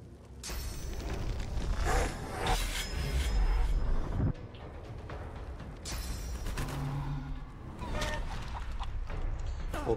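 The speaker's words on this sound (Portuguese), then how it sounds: "O cara transformou meu cachorro infernal numa galinha." Chicken clucking in the fantasy role-playing game Divinity Original Sin 2, a hellhound turned into a chicken, with short clucks and rustling game effects repeating over a steady busy background.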